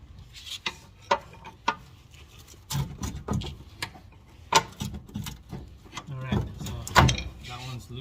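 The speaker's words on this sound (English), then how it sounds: "We're gonna move this shocks out of the bracket. Just pry it out quick." Shock absorber being pried out of its bracket on the rear suspension of a 2008+ Mitsubishi Evolution X during a BC Racing coilover install, with sharp metallic clicks and knocks scattered over several seconds and low scraping underneath.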